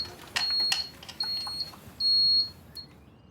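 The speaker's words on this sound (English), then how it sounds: "here to reset the fire alarm" Shrill electronic alarm beeps sound in short bursts, the last one held longer, over a low background rumble.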